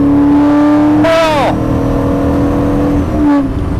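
A Maserati Ghibli's large 4.9-liter V8 growls steadily up close, then revs sharply and drops back. A brief exclamation rises over it, and a second, shorter rev follows near the end.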